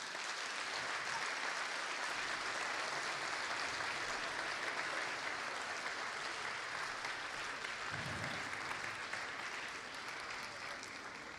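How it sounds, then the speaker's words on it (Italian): A concert audience applauds a youth choir performance at the Primavera di Voci choral event, sustained dense clapping that holds steady for the whole stretch, easing slightly near the end. "Eccoli qua, un grande applauso."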